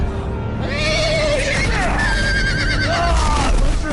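A horse in a Game of Thrones video game lets out a loud, drawn-out whinny, repeated over rumbling battle noise.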